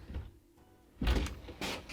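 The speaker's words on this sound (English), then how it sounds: "It is a sliding pocket door that you can close" A sliding pocket door in a 2021 Forest River R-Pod 202 travel trailer rolling shut, a short sliding rumble ending in a soft thunk, with a second bump just after, close by.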